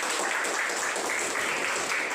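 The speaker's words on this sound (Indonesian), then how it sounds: "Tepuk tangan untuk kelompok." Applause for a student group during a classroom presentation session, a steady, dense patter of many hands clapping throughout, fairly faint and without pauses.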